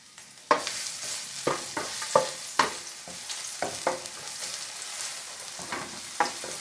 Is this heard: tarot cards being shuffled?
no